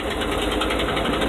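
Engine of a 1979 Ford F350 dump truck, with a power take-off pump, runs at raised RPM in a steady, rough mechanical drone with a knocking pulse, close and loud throughout a short stretch.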